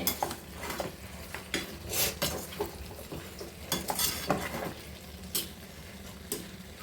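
Repeated scraping and clinking of a utensil stirring chicken in a pan, with a faint sizzle underneath and irregular louder strokes, close and without voices.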